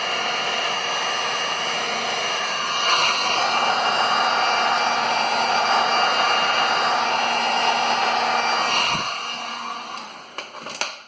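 A heat gun blows hot air to shrink heat shrink tubing over a newly fitted wiring connector on a Polaris idle air control motor pigtail. It gives a steady, close, loud whooshing hiss that fades out near the end, with no talking.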